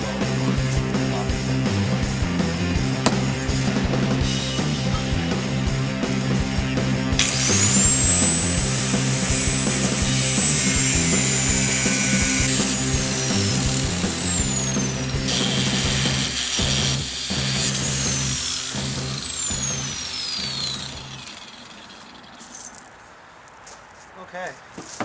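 Old steel chunks being cut off for a 3-point hitch draw bar, a loud grinding cut that runs steadily for about twenty seconds, with high screeching whines partway through, and then stops near the end.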